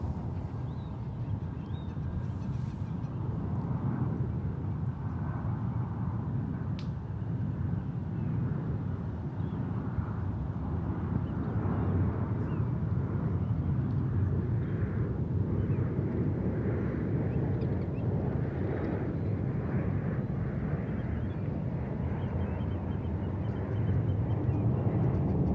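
An Alaska Airlines Boeing 737-900ER arriving at San Francisco International Airport from Portland, Oregon, makes a steady, broad jet roar that rumbles continuously at a distance and swells slightly toward the end, with no one talking.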